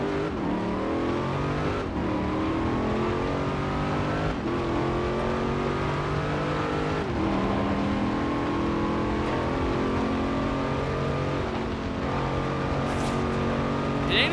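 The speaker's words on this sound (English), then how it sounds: "I love how the Corvette sound." A custom Corvette Z06 in Forza Horizon 4 revs and accelerates continuously, its engine note climbing through repeated gear shifts, loud and steady with no talk over it.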